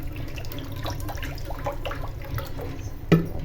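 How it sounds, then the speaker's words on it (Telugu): Water poured into a small kadai, a continuous close splashing pour that runs steadily before a brief clunk near the end. "సో ఇప్పుడు ఇందులో అయితే వాటర్ అయితే పోస్తున్నాను."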